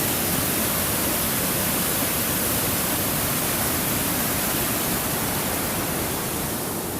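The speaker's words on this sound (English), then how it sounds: "But there's the waterfall." A loud, unbroken roar of rushing water fills the whole stretch, steady and close, from a waterfall at a natural dam.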